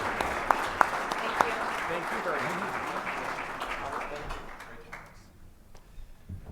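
Audience applause at the Arvada Chamber Ballots & Breakfast candidate forum, a steady wash of clapping with a few sharp close claps early on, under a brief spoken thanks, then thinning and fading out toward the end.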